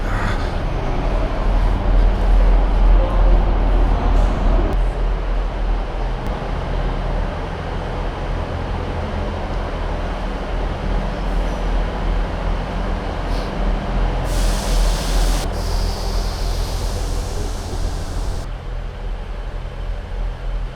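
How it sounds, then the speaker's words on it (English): A ScotRail Class 158 diesel train arriving at Inverness Station rumbles steadily with deep low engine drone, then a loud burst of hissing air brakes; faint mechanical clatter throughout, no voices. "And there's our train."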